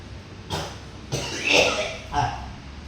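A man coughs after smoking a cigarette: three or four separate harsh coughs, spaced about half a second apart, close by over a quiet background.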